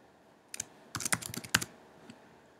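A name being typed on a computer keyboard nearby, with a short burst of crisp key clicks after a lone tap and a final faint press, otherwise quiet.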